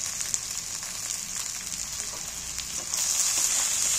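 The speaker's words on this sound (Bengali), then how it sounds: "এটা পেঁয়াজের সঙ্গে ভালো করে কষিয়ে ভেজে নেব" Small chopped pieces of fat fry with onions in a pan, giving a continuous close crackling sizzle that grows a little louder and brighter toward the end.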